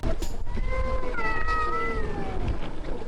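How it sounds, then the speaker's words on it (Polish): Street cats fighting outdoors in Tbilisi, letting out long, wavering yowls and caterwauls over steady background street noise. "walka kotów."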